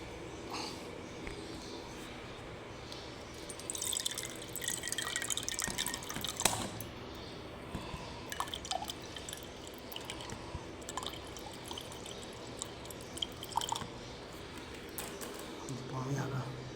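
Water dripping and trickling as it fills in an attached bathroom of a room in Gulshan Faiz Colony, Multan, with steady faint dribbling, scattered clinks and knocks, and a voice talking over it.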